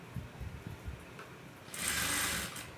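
A sewing machine stitching a blouse starts after some faint handling noises and runs in one short, quiet burst of fast, buzzing whir before it stops.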